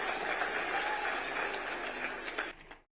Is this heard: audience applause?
yes